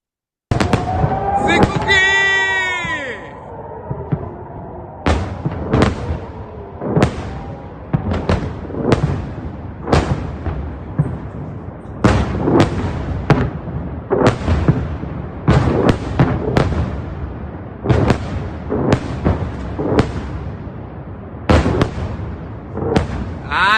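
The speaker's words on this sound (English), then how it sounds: "So you heard those booms of rockets being shot down" Repeated loud booms of rockets being intercepted over Israel, sharp blasts roughly every second or two across the whole stretch, with a rising whistling whoosh near the start.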